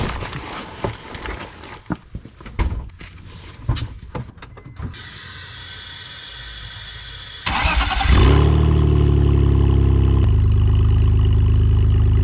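A cheap BMW drift car, freshly wrenched on jack stands, has a few scattered clanks and clicks before its engine cranks and catches, then settles into a loud, steady, rumbling idle close by.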